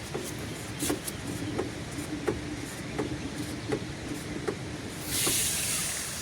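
Wheel of an abandoned scrap car turning slowly with dragging brake shoes, a ticking adjuster and worn wheel bearings, giving steady rhythmic ticks about every 0.7 seconds over a rough grinding hiss, with a burst of broadband noise at the end.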